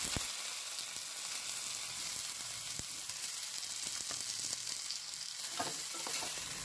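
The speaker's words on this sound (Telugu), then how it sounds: "పోపు వేగిన తర్వాత ముందే కోసుకొని పెట్టుకుని ఉల్లిపాయ ముక్కల్ని, పచ్చిమిర్చి ముక్కల్ని, కరివేపాకుని కూడా వేసుకొని ఒకసారి బాగా తిప్పుకోవాలి." Chopped onions, green chillies and curry leaves fry in hot oil in a continuous quiet sizzle, with an occasional scrape or clack of a spoon as they are stirred.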